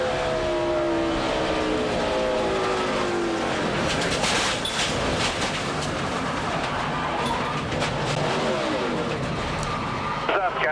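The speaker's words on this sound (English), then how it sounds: "This is onboard Michael Waltrip" A NASCAR stock car engine roars steadily from an onboard camera at Darlington during a race. The drone is loud and continuous, with pitch sweeps as the car accelerates and shifts, and a voice talks over it.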